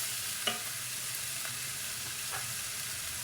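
A kiampong rice mixture is stirred in a pan, a quiet sizzle running under a few soft scraping strokes and one sharper clink of the spatula early on.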